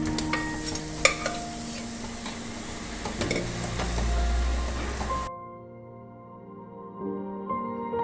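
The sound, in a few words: spice mixture with hot water being stirred and roasted in a pan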